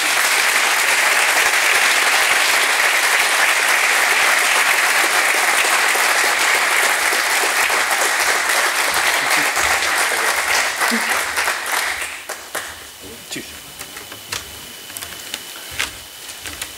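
A large indoor audience applauds loudly and densely for about twelve seconds before it thins into scattered claps, with a voice speaking near the end.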